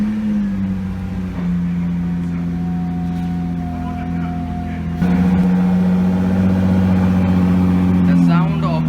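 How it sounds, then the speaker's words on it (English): A 2017 Nissan GT-R Nismo starts up and settles into a steady idle, with a deep rumbling exhaust that steps up in loudness partway through and then a short rev. "So now let's start the car."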